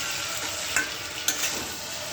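Prawns sauté in a hot pan of oil and spice for a prawn and jackfruit curry, a steady close sizzle with a couple of sharp clinks from stirring, no voices.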